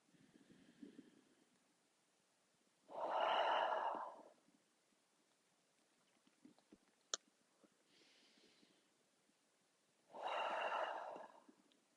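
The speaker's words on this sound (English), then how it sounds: "inhale through your nose and exhale, sigh your breath away" Two long, audible exhalations through the nose during yoga, each a breathy rush lasting about a second, separated by quiet pauses with faint softer breaths between them.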